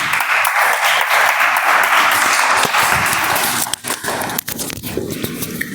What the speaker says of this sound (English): Please help me welcome with huge round of applause Toastmaster Abhinesh onto the stage, please.